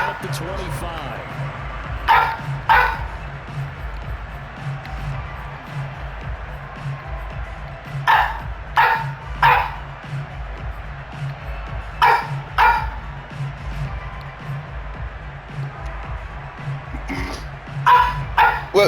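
A dog barks indoors in short sharp pairs and clusters, repeated several times, over a low steady hum and game sounds.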